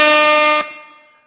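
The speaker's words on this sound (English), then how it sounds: "What'd you say, Super Chat Air Horn?" A loud, steady air horn blast sounding as a chat-donation alert on a comedy show, holding for about half a second before cutting off into a fading ringing tail.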